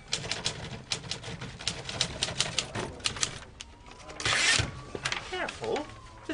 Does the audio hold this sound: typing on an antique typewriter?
yes